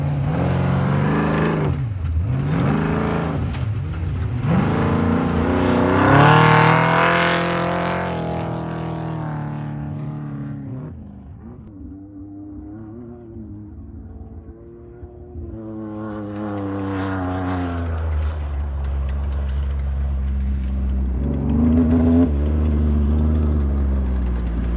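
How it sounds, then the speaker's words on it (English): A Class 1 trophy truck racing a desert course, engine roaring loud and close with rising and falling revs, easing off briefly mid-run before building back to a steady drone. "the trophy truck actually misses the corner right here."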